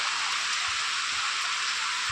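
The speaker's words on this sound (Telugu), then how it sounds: "ఫుల్ వర్షం పడుతుంది" Heavy rain pours down in an even, dense hiss, close and unbroken, while a cyclist on a long-distance road journey shelters under a tin-sheet roof.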